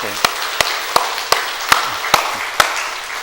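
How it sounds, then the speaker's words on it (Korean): A church congregation claps during a Sunday morning service, giving seven sharp, evenly spaced claps that ring out alone in a reverberant room. "우리 장로님 가정에서 박수 한번 칩시다."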